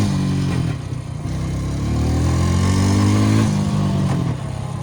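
The engine of a Honda Rancher 350 ATV runs close and loud. It holds a steady idle, then rises in a smooth rev and settles back, with no talking.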